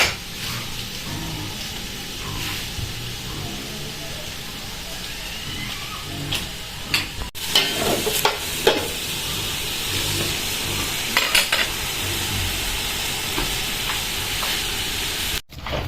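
Duck adobo in coconut milk sizzling and frying in a pan, a steady bright hiss with intermittent stirring scrapes and clatters, close and continuous.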